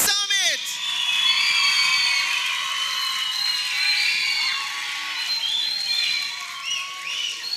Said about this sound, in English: Can I hear the round of applause for the Africa Children's Summit?